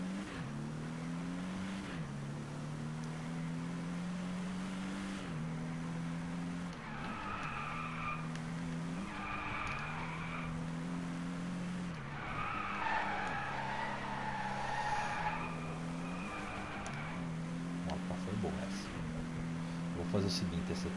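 A race car in Driveclub skids and drifts through corners, tires squealing in repeated bursts over a steady engine drone, while someone talks excitedly throughout.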